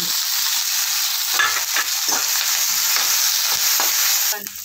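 Dried red chillies, green chillies, ginger, garlic and curry leaves fry in hot oil in a kitchen pan, giving a loud, steady, close sizzle with some stirring scrapes and no talk.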